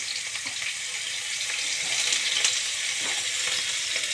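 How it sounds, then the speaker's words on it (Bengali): Cauliflower pieces and green chilies fry in a pan with a steady, close hiss of hot oil and a few light clinks of stirring, with no talk over it. "এবার ফুলকপিগুলো দিয়ে দিলাম।"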